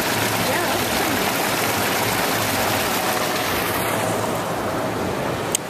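Water pours steadily from the waterfall spout of a hot tub on display at a home show, a loud, continuous rushing splash with no break and a faint background hubbub.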